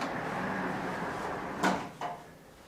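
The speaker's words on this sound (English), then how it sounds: "Soft close, really high quality, such a clever mechanism there that saves both time and space" A soft-close door in a modern mountain home glides shut, with a low slide followed by two soft, muffled thumps as it settles, heard close by.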